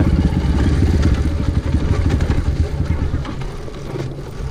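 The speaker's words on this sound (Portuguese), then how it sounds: "A moto tá morrendo demais." A trail motorcycle on a dirt trail near Ubá, Minas Gerais, runs rough and close with a choppy, sputtering engine note under heavy wind buffeting, faltering as if about to stall.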